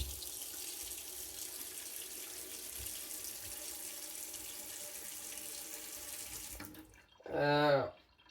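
Tap water pouring steadily into a coffee cup in a kitchen, a soft continuous splashing stream that stops near the end, followed by a short voice.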